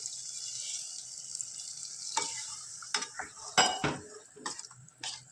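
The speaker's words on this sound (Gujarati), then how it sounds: "હવે આપણે જરૂર મુજબ મીઠું નાખી દઈશું અને એને આપણે હવે હલાવીશું" Soya chunk curry is stirred in a pot, a low sizzle beneath a run of close metallic scrapes and clinks from the spoon against the pot, faint and irregular.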